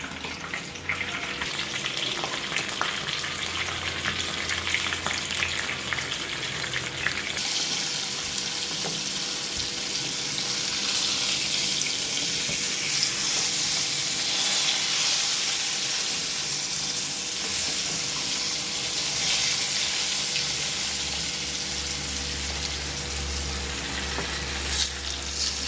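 Fish wrapped in banana leaf fries in a pan with a steady, loud, dense sizzle that continues unbroken throughout, with no voices.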